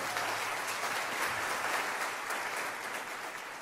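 A congregation applauds the worship band, a continuous wash of clapping from many hands with scattered louder claps, sustained throughout without talk.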